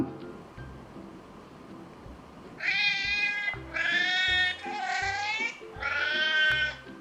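A cat translator phone app plays back a sequence of recorded cat meows, four drawn-out, wavering calls one after another over a faint rhythmic background beat.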